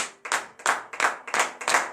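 A church congregation at morning prayer claps in unison, about six sharp, evenly spaced beats that are close and clear with brief gaps between them.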